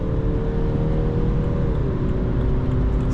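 A 2011 Alpina D3 Biturbo with a four-cylinder twin-turbo diesel rated at 214 hp pulls hard at full throttle, its engine drone loud and steady from inside the car, rising slightly in pitch before a brief shift.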